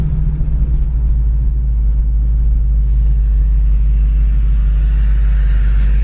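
A 1967 Chevrolet El Camino, fitted with a freshly installed cam and lifters, drives at steady, gentle speed, its engine giving a constant deep, loud rumble with a faint rise in pitch near the end and no voices.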